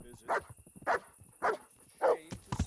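Dog barking in the medieval video game Kingdom Come: Deliverance, four evenly spaced loud barks close by with quieter sounds between them.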